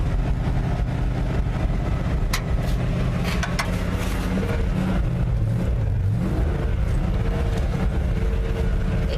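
Engine of a 1958 Chevy Napco 4x4 truck running steadily, a loud continuous low rumble with rising and falling revs, close up and with no talking over it.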